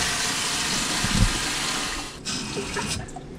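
Steady rushing water pours from a tap into a canning pot holding jars, a continuous close hiss that dips briefly before resuming.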